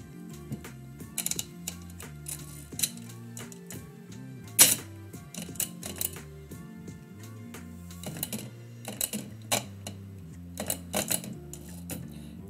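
A manual typewriter pecks out live typewritten poetry in irregular bursts of sharp keystrokes and occasional carriage clunks, set against steady background music at moderate volume.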